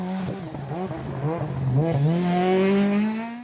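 A rally car on a stage of the 2014 International Jännerrallye, its engine note rising and falling under wavering harmonics, then climbing steadily in one sustained, close, loud pull as the car slides on its tyres.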